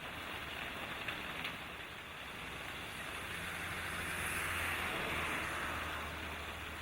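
Steady, dense monsoon rain hisses continuously with a low rumble beneath, swelling slightly louder midway and holding constant throughout with no voices.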